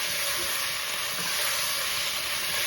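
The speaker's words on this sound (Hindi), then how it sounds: "अच्छे तरीके से इसको भूनूंगी।" Chicken qorma frying in a pan, a steady loud sizzle and hiss that continues unbroken throughout with no voices.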